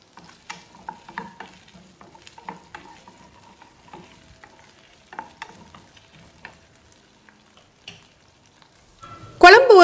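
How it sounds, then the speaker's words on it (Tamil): Okra and shallots sautéing in a pan for sambar, with intermittent clicks and scrapes of stirring over a soft sizzle, then a louder burst of frying at the very end. "நம்ம வெண்டைக்காவையும் சின்ன வெங்காயத்தையும் வதக்கிக்கலாம்."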